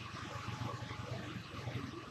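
Fast, rushing river water roars steadily beside a colorful bridge on a mountain road, a broad continuous wash of noise that stays constant and close from start to end.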